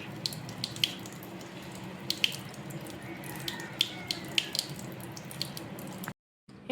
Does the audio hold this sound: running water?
yes